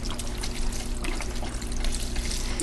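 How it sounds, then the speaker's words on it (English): A quart of beef stock pours steadily into a pot of beef stew, giving a continuous liquid splash and trickle at close range with no speech over it. "I'm going to add my quart of beef stock."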